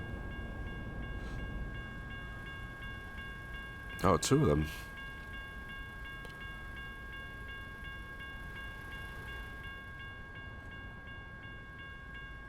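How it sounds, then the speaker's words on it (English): Metro train passing during American Truck Simulator gameplay: a short, loud rush and rumble rises over the steady truck-engine drone, with someone speaking briefly. "That looks more like a metro train."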